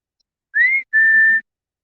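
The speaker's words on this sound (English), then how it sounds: "so I don't know if they can hear me whistle" Outdoors in the wind, a person whistles to call animals: two clear, loud notes, the first a short upward slide and the second a longer steady tone, close and alone against silence.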